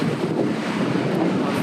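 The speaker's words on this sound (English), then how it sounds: "It's getting a little bit windy here." Steady outdoor wind at Peterhof buffets the microphone with a continuous loud rumble and hiss, no voices.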